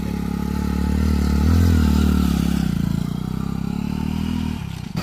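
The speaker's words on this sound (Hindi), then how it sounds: "बाइक में पीछे जा रहा।" A motorbike engine drones steadily at close range while riding through the forested Abujhmarh area of Bastar, a rough, continuous rumble with rattling before it eases off near the end.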